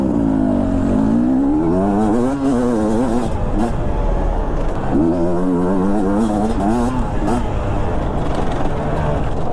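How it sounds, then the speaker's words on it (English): A 2022 Beta 250 RR two-stroke enduro motorcycle being ridden, its engine loud and close, revving up and down in rising and falling sweeps, with a voice talking over the ride. "now we're going to take a little spin on the 2022 Beta 250 RR 2-stroke"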